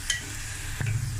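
Ground spice paste fries in hot tempering oil for an amaranth stem curry, a short soft sizzle with one light scrape of stirring near the end.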